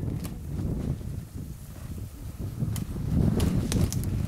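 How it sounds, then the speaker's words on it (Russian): Strong, cold gusty wind buffets the microphone in uneven low rumbles, growing stronger toward the end, with faint rustling in the background. "Сегодня довольно холодно и резкий ветер."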